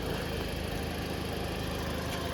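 A 2011 Toyota Auris 1.6 gas/petrol engine idles steadily up close, a smooth continuous hum with a faint rhythmic throb and no voices.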